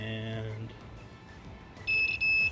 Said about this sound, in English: when it touches, you should hear a beep